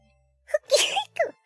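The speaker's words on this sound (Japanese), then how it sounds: "あ、くしゃみ出そう。" A single sneeze: a quick sharp intake, then a loud forceful burst and a brief trailing gasp, close and clear against silence.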